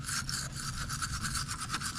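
Wire brush scrubbing hard and fast over rusty metal on a 2012-2016 Honda CR-V rear brake caliper bracket, a continuous close scratchy rasp with quick back-and-forth rhythm.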